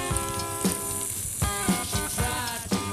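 Oil poured into a hot pan for cooking rice with aged wine, giving a steady soft sizzle with several brief crackling bursts and pops, close and moderately loud, with no talk.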